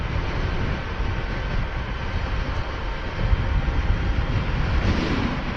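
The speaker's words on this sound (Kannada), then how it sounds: "ತುಂಬ ಗಾಳಿ ಬೀಸುತ್ತೆ" Strong wind roars continuously across the microphone while riding a motorbike near Maravanthe beach between Udupi and Kundapura, a dense, rumbling rush that swells louder partway through.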